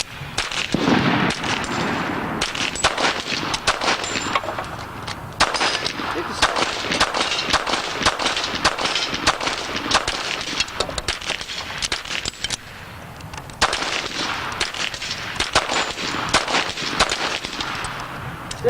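Pistol shots ring out at a tag-team shooting competition, a rapid string of loud, sharp reports in several bursts separated by brief pauses, with some background voices.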